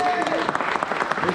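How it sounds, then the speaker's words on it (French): An audience applauds at a radio-controlled car drifting competition on Réunion, a brief burst of steady crowd clapping at moderate loudness, with a voice briefly audible near the start. "je voudrais applaudir vraiment M. Gauthier et Madame Blanc"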